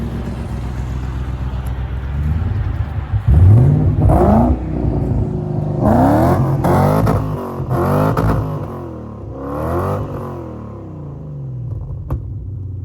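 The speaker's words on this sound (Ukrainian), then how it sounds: "Ви слухайте, як мотор роботи." A BMW 4.0-litre V8 car engine revs repeatedly, rising and falling in several loud bursts over a steady idling rumble, close by.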